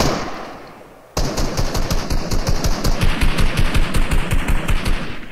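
Rapid automatic gunfire in a first-person shooter video game, a sudden loud burst after a quiet second that keeps going as an even, fast run of close shots.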